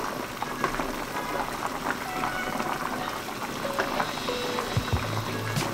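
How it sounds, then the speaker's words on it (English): Broth pouring steadily over noodles in a hot pot bowl, a continuous splashy trickle up close, with faint clinks near the end. "And then I just pour broth on top of the noodles."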